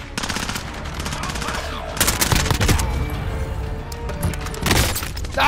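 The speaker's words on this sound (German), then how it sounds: "Ah, ich werde immer noch beschossen." Rapid bursts of loud, close automatic gunfire in Call of Duty Warzone near a bunker, repeating in clusters with some impact and breaking sounds.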